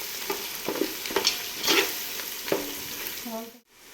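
Mandi masala frying in a pan as it is stirred, with a steady bright sizzle and repeated scraping strokes of a spoon, close up, cutting off abruptly near the end.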